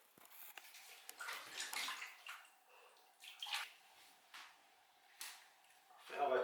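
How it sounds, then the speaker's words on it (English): A dahlia tuber is dunked and rinsed in water to wash off mud, giving soft sloshing and splashing with intermittent clinks and trickles, close by and fairly quiet. "just going to stick it in the water"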